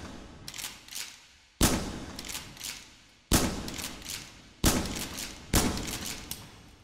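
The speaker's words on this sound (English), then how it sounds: "if you rack the shotgun once like this" Virtual shotgun in the H3VR game racked and fired repeatedly: four or five sharp, loud blasts spaced about a second apart, each with a decaying tail and faint mechanical clacks of the pump action between shots.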